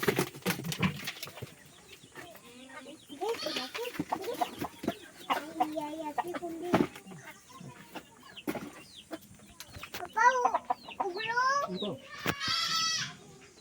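Multicoloured chickens, including Talang hens, cluck and call in a noisy yard, with a goat bleating among them, scattered knocks, and a voice speaking now and then.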